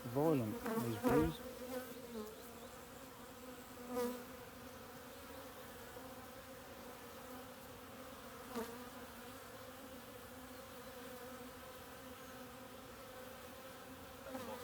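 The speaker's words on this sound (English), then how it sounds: "Oh, they are quite violent, these bees." Honey bees hum in a steady, droning buzz close by around a hive, with a few louder buzzes as individual bees fly past.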